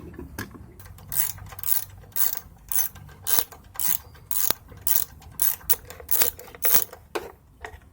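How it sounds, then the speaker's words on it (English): A ratchet backs out an 8mm bolt on the airbox plate of a 2014 Troy-Bilt Bronco riding mower with a Kohler 17 HP engine. The clicks come close and clear in a steady series of bursts, about a dozen quick rhythmic pulls. "On top of the airbox plate there is an 8mm bolt to remove."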